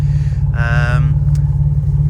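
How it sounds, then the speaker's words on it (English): An idling Alfa Romeo GTV Cup engine rumbles steadily through a stainless steel exhaust, loud and close, with a pulsing low throb and a brief tonal whine over it. "It does have a stainless steel exhaust, of which we have the details for in the paperwork, and it makes a fantastic noise"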